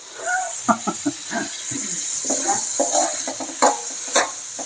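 Sautéed chayote shoots stirred in a sizzling pan, a steady fry under repeated clattering utensil scrapes and taps, close and fairly loud, without talk.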